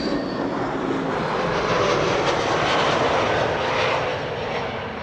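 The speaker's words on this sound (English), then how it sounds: "Kuwait Airways is coming in with a 777" Kuwait Airways Boeing 777 arriving at Amsterdam Schiphol Airport, a loud sustained broadband engine roar that swells and slowly eases as the airliner passes, with no talk.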